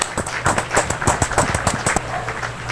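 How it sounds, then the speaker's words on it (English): A classroom of students claps their hands together during a lesson, giving a quick burst of sharp, overlapping claps that carry on steadily for a couple of seconds. "Let's clap our hands."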